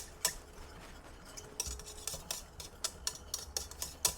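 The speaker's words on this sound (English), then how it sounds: "I'm going to whisk all these ingredients together" Quiet clicking and tapping of a whisk against a bowl as teriyaki sauce ingredients are mixed, a run of irregular light strikes that grows busier toward the end, with no voices.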